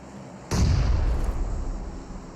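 A single sharp gunshot blast in the mobile battle royale game PUBG Mobile, sudden and loud, followed by a rumbling low-frequency tail that fades slowly over two seconds, with no talk.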